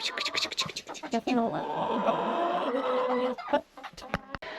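Hens cluck and scratch about near a backyard chicken coop, a busy close flock, while a person talks over them.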